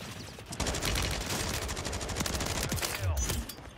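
Rapid automatic fire from a Bruen MK9 rifle in the video game Warzone 3 rattles on in dense bursts for several seconds, loud and close, with other shots mixed in.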